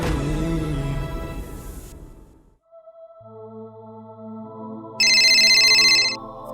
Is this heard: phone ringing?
yes